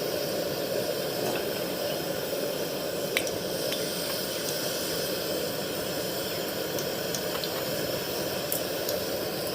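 Oil heating in a hot wok on a gas flame for homemade mango pickle gives a steady, close hiss with faint sizzle, continuous and even throughout with no talk.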